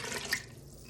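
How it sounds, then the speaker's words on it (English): Four cups of water pour into a pot of squash, black bean and kale soup on the stove, a brief close splash and rush of liquid that fades quickly. "Now I'm going to add my water."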